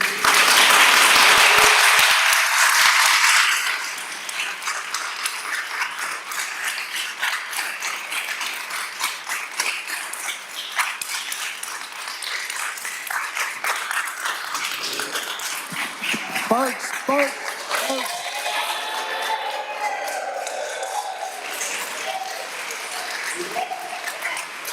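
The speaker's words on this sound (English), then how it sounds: "Y'all want to clap afterwards and cheer after everybody's spoken." Applause from the audience at a city council meeting, a loud burst of clapping lasting a few seconds before fading into murmuring and talk in the chamber.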